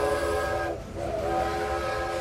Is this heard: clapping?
no